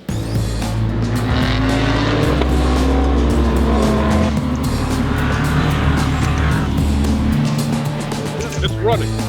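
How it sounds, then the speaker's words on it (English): A rebuilt IMSA race car's engine runs loudly and close, a sustained roar with shifting revs, while excited voices talk over it. "It's running. We have a running car."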